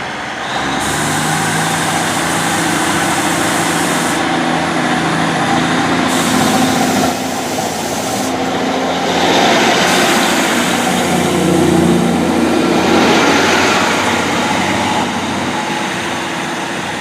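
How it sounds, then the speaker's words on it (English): Great Western Railway service to Taunton departing Yatton station on the Great Western Main Line, a loud, steady engine roar and rumble close by, with hissing bursts like air brakes releasing, sustained throughout without speech. "departing now is the 1309 Great Western Railway service to Taunton"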